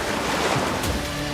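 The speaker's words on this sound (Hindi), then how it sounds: "वैसे ही समुद्र की लहरों की आवाज स्पष्ट सुनाई देने लगती है।" Sea waves heard just outside Puri's Jagannath Temple on the coast, a continuous broadband wash of surf with no clear individual breaks, close and fairly loud.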